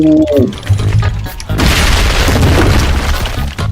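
A loud booming bomb blast in the game Aba erupts and rumbles with crackling debris, following a brief tonal sound, with speech mixed in.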